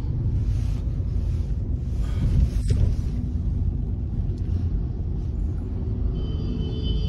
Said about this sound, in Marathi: गाडी शिकायला लागलाय सुरत चव्हाण